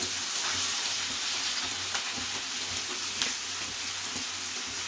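Ginger and garlic frying in hot oil for Gobi Manchurian, giving a steady, close sizzle and crackle throughout with no talking.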